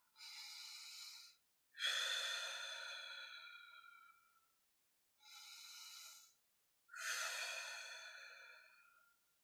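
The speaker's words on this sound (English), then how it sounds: "Take a deep breath in through your nose and out through your mouth." Four slow, deep breaths at close range, an airy inhale through the nose followed by a longer sighing exhale through the mouth, each separated by short silences.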